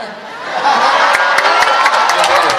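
Students at a university question-and-answer session in Kupang break into loud, sustained cheering and clapping, a dense crowd roar building within the first half second and holding steady with scattered sharp claps and shouts.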